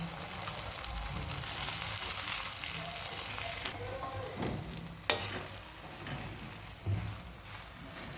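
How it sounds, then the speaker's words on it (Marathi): Lachha paratha made from wheat dough fries in ghee on a pan, giving a steady close sizzle with occasional sharper crackles and a few soft scraping knocks as it is turned. "पलटत पलटत तूप लावून छान खरपूस असा पराठा भाजून घ्यायचा आहे"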